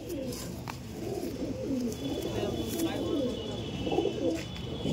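Pigeons coo in repeated low, throaty phrases nearby, with someone talking over them and a few faint chirps mixed in.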